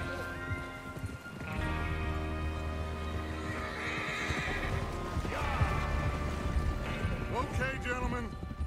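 Horses in Red Dead Redemption 2 whinny several times over steady hoofbeats, with game ambience and music around them; the neighs rise clearly above the background.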